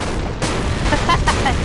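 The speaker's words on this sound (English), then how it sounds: "Explosion." Explosions and blasts in the video game Kingdom Hearts II Final Mix, a dense cluster of booms and pops over continuous game noise, with a few brief tonal effects mixed in.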